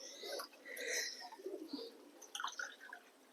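Pigeons coo softly and close by in short, uneven phrases, with a few quiet chirps against a faint, quiet background.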